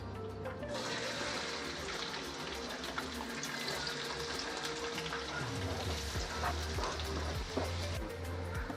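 Onions fry in a pan for mandi rice, making a low continuous sizzle with scattered crackles, some scraping and watery stirring noises mixed in.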